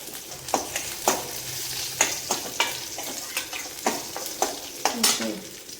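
Vegetables sautéing in a pan for a South Indian puli mandi with bitter gourd, banana flower and okra, sizzling steadily while a spoon scrapes and stirs in a loose, repeating rhythm about once a second, close and fairly quiet.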